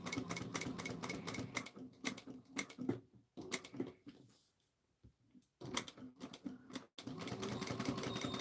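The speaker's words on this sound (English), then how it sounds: "I'm going to do a couple stitches in and a couple stitches out" A sewing machine stitches fabric in close, rapid mechanical bursts, stopping briefly and starting again for a few stitches in and out, then running steadily once more.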